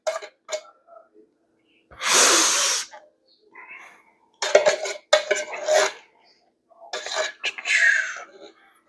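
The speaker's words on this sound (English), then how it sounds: "Just gonna scrape this out a little bit." Canned peeled San Marzano tomatoes being scraped out of the can with a metal utensil, in several short, close scraping and clinking bursts separated by pauses, one longer broad scrape near the start.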